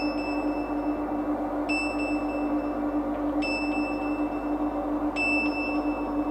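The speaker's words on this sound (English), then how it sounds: "And perhaps a radar pin." Radiophonic Workshop radar pip effect for a 1968 spaceship soundscape: three clean, bright electronic pips at spaced intervals, each stepping in pitch, over a steady synthetic drone hum, loud and with no talk.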